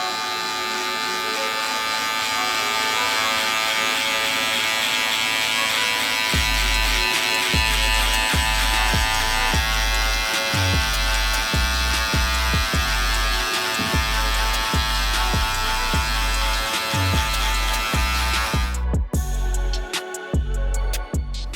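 An electric hair trimmer hums steadily throughout, with the open lever and a 1 guard fitted, as it is pushed through hair in repeated strokes that add soft rhythmic thuds, setting up a high fade during a buzz cut.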